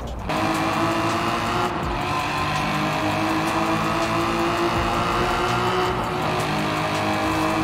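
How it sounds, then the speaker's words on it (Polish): A Mercedes-Benz sports car engine in Forza Horizon 4 drones steadily at a constant pitch, with rich harmonic layers and a couple of brief dips, loud and continuous with no voices. "To nie jest standardowy silnik, ale brzmi super."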